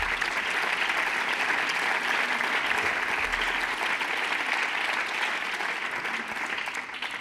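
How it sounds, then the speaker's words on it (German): Sustained applause fills an Austrian National Council chamber during a special parliamentary session, a dense, even wash of many clapping hands at steady loudness with no talk over it. "Applaus."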